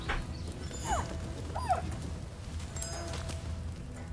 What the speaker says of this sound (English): Let's pet the pilgrim dog.